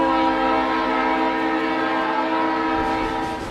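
A train rolls through Hanoi's narrow train street in Vietnam, a loud, close, sustained rumble with a droning horn-like tone that holds for the full stretch.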